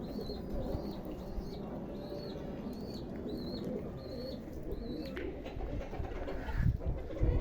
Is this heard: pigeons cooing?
yes